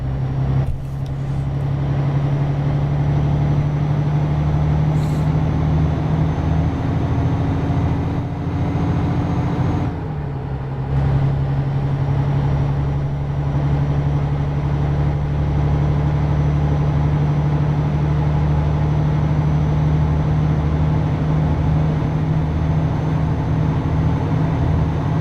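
A truck engine in Euro Truck Simulator 2 holds a steady, loud, low rumbling drone. Its pitch shifts slightly about halfway through before settling back into the same even hum, and no one talks over it.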